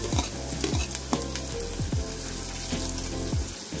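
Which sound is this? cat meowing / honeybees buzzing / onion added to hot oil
onion added to hot oil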